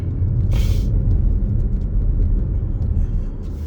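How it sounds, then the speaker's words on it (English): A car accelerating through a turn on a road during a driving lesson, with a steady, loud low engine and road rumble throughout and a brief hiss near the start. "And then I go into the nearest lane and accelerate through the turn."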